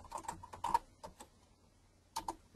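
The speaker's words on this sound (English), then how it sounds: "this time I'm going to type in the other words" Quiet typing on a computer keyboard: small clusters of soft, close key taps separated by short pauses.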